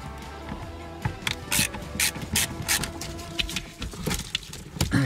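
A ratchet wrench clicks in quick bursts of rapid pawl ticks while loosening the bolts that hold a car battery in a Citroën C6 2.7 HDi, close and fairly quiet with short pauses between runs.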